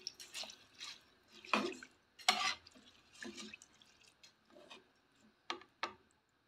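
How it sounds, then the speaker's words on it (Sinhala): Water going into a pot of soaked rice for majboos rice, heard as faint, scattered splashes and drips coming in short irregular bursts, soft and close, with no talk. "දැන් මේ විදිහට අවශ්‍ය ප්‍රමාණයට අපි වතුර දාගන්න ඕනේ බතට"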